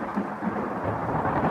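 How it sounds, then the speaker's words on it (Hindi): Low thunder rumbles steadily, a deep rolling growl with a hiss of rain beneath it, no voices present. "तभी बादल गरजने की आवाज़ सुनाई देती है।"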